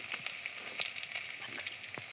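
Onions frying in a pan for chilli cauliflower give a soft, continuous crackling sizzle dotted with small pops, with no voices.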